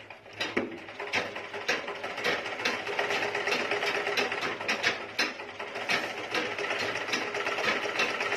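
A treadle sewing machine pedalled by foot gives a steady, close mechanical whirring and clattering with ratchet-like ticks, continuous and fairly loud for the whole stretch, with no talking.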